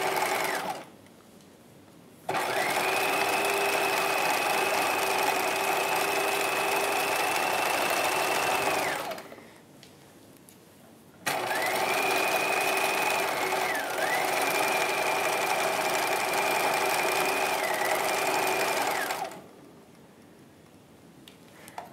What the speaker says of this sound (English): now I'm going to keep stitching 5/8 of an inch